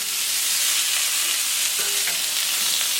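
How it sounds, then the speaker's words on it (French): Sliced potatoes and yellow and pink carrot rounds cooking on a plancha give a loud, steady, close frying sizzle that holds evenly throughout without any talk. "nous allons faire la plancha de pommes de terre avec, j'ai mis quelques carottes rondelles"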